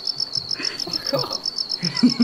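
Dense, steady cricket chirping from a survival shooter game, pulsing in a fast regular rhythm close to the ear, with soft shuffling and thuds underneath.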